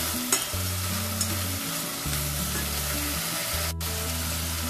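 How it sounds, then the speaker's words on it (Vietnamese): Grasshoppers fry in a pan with a continuous loud sizzle and crackle while being stirred, close up and without any talk. "xong rồi tiến hành cho vào chiên"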